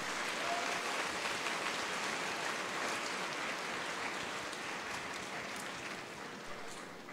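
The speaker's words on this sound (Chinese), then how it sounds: "给你们自己以及到场的家长一个掌声鼓励" Broad, continuous applause fills a high school graduation ceremony hall as graduates and parents clap together, steady and even before slowly easing off.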